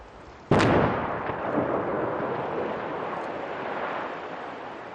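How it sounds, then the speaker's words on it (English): Plastic explosives collapse tunnel entrances on a mountainside with a sudden, loud, distant boom that rolls into a long rumbling echo, fading slowly over several seconds. "And then we waited for the explosion."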